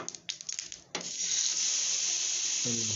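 Rock fish is fried in hot oil. A few clattering knocks give way to a loud, steady hiss that holds to the end, with a brief low tone entering at the very close.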